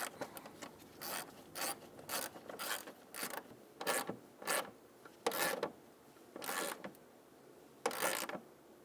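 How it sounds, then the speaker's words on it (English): A ratchet wrench tightens a bolt on a Ford Taurus engine cooling fan assembly, a dozen quick, close rasping clicks in short uneven bursts with brief pauses between. "now you can tighten your bolt."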